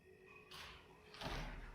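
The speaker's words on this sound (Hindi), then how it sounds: "क्या हुआ है वो दरवाजा बंद" A door in a haunted house swings shut on its own with a broad rushing slide and a heavier closing thud at the end, faint and brief, with no voices.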